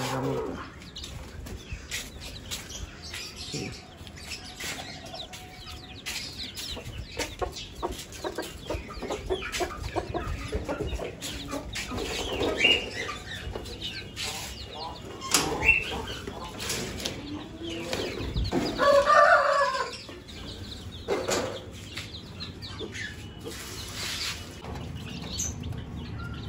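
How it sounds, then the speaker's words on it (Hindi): A pet rooster and chickens in an aviary, clucking and calling at moderate distance amid bursts of wing flapping and scuffling, with an ongoing rustle of movement throughout. "ये हमारा मुर्गा"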